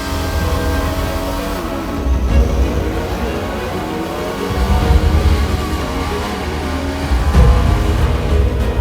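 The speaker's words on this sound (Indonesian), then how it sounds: "Mobil Volkswagen dengan 2000cc yang dirakit oleh Sea Garage." A 2000cc Volkswagen race car built by Sea Garage revs loudly at a drag race at Sentul, Bogor, its engine note rising and falling continuously and nearby, with no talk.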